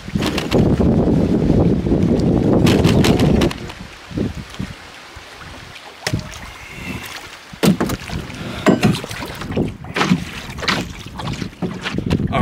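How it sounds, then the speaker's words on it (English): Canoe being paddled across a windy lake, with heavy wind noise at first, then irregular paddle strokes, water splashes and knocks against the hull, close to the microphone. "I paddled my way across the lake. It was kind of a grueling paddle."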